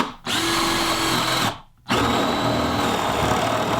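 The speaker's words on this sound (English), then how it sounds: "I'm going to use a 1-inch wood bit here to put this hole into the wood." A power drill bores a hole into wood with a 1-inch wood bit, a loud steady whine in two long bursts separated by a short pause, close up with no talking.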